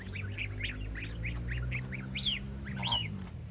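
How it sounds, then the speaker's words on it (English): Young geese (goslings) on a farm in Thailand give a run of rapid, high peeping calls, several overlapping chirps and a couple of rising squeaky notes, close by over a steady low background hum. "Happy goslings."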